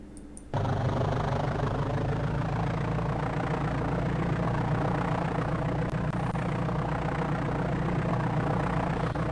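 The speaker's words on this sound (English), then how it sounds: "Now the sound of the engine," A steady, low aircraft engine drone from Flight Simulator 5.1 on DOS starts abruptly after a short quiet moment, then hums evenly and moderately loud throughout.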